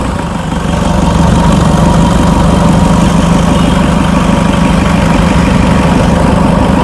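Toyota Innova engine idling low with fault code P0093, a steady, loud, continuous low rumble with constant vibration and no talk over it.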